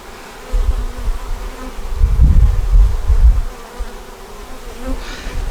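Honeybees buzz around an open hive frame holding capped brood, pollen and nectar during a queen check, a low droning hum that swells in the middle and stays fairly steady with no talking.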